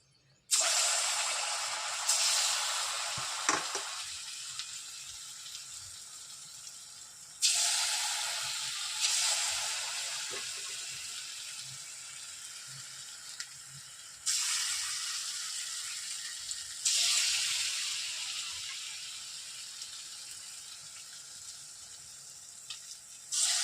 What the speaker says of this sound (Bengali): তো আমার তেল গরম হয়ে গেছে এবার বড়াগুলো আমি অল্প অল্প করে